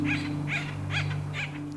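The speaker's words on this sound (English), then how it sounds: "I can hear the acorn woodpeckers right now." Acorn woodpeckers call in a California oak woodland, giving four evenly spaced raspy calls over a steady low hum.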